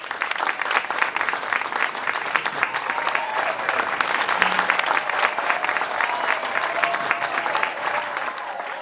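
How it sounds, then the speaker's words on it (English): A large crowd claps steadily and loudly, sustained applause filling the space without pause. "A hymnodic round of applause for all of them."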